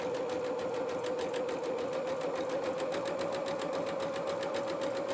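A sewing machine runs steadily at close range, stitching a pinafore seam with a fast, even mechanical whir and rapid needle ticks, unbroken and fairly quiet.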